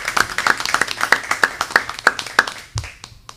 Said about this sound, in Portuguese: queria também pedir uma salva de palmas para o Grupo Tortura Nunca Mais